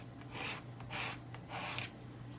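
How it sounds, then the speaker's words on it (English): Squeegee rubbed firmly over transfer tape laid on a cut vinyl decal, three broad raspy strokes at a steady rhythm, close and fairly quiet over a low background hum. "I just put my transfer tape on here. So then I lay it down and I just run my squeegee over it"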